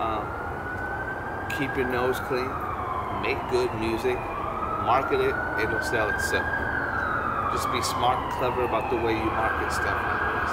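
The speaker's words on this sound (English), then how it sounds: "Sorry about the sirens." Emergency vehicle sirens wailing outside, rising and falling sweeps repeating over several seconds, clear but behind someone talking close up.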